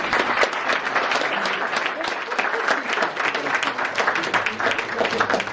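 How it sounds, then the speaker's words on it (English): A premiere audience breaks into a steady round of applause, dense clapping from many hands, loud and sustained with a few sharper claps standing out, filling the room without pause. "So yourselves, a round of applause."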